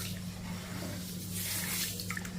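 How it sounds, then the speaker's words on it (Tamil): Finger millet (ragi) grains being rinsed and kneaded by hand in water, a steady wet sloshing and swishing over a low background hum, close up and without talk. "இதையும் தண்ணி ஊற்றிட்டு நல்லா பிசைஞ்சு விட்டு நல்லா பிசைஞ்சு விட்டு நம்ம இதை கழுவணும்"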